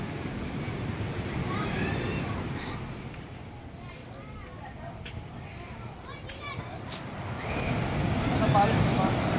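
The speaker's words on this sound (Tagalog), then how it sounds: "Wala ngang hangin, pero may alon." Ocean waves wash steadily onto a shore. The broad surf noise swells at the start and again near the end, with distant voices and children playing in the background.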